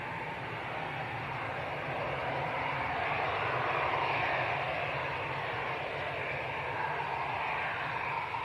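An EasyJet Airbus A320 airliner bound for Geneva at Manchester Airport, its engines a broad, steady roar that swells gently and holds at moderate loudness throughout.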